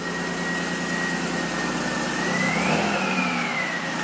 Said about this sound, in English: Alright, so the car is running.